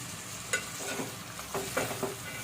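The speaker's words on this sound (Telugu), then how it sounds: "ఇదంతా కూడా ఒకసారి బాగా కలుపుకోవాలి." Chopped tomatoes and broad bean seeds are stirred in a hot pan for a curry, with several scraping strokes of the spoon over a constant sizzle.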